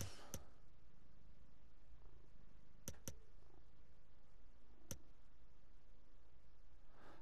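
A cat purrs with a steady low rumble throughout, close and fairly quiet, broken by a few sharp clicks and ticks, with no talking.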